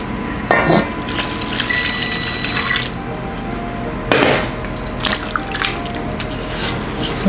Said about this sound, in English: Now it's time to pour the stock.